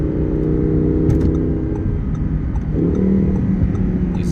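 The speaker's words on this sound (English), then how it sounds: "These upshifts and downshifts are all perfect, nice and smooth. Sounds really good." A 2017 Audi R8 5.2 Plus quattro engine hums and rises while driving, with gear changes shifting its pitch, a steady mid-level drone heard from inside the car and no talking.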